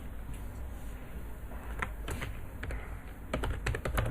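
Typing on a computer keyboard, irregular clusters of crisp key clicks that quicken toward the end, over a steady low room hum with no talk.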